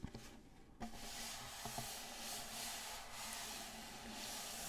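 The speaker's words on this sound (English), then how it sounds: "rub the back, you can hear that there's a sound that comes through the hole." The back of a ukulele rubbed by hand, producing a soft, steady, hissing friction that resonates faintly through the sound hole, close and quiet, with a few light taps near the start.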